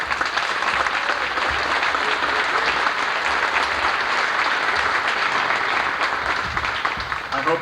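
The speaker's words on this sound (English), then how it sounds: "So we give them a big round of applause." Steady, dense applause from a large crowd, loud and sustained throughout without a break.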